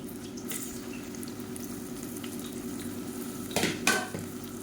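Sliced onions sautéing in hot oil for egg biryani: a steady, close sizzle runs throughout, with a couple of brief clinks of a utensil against the pan near the end and no talking.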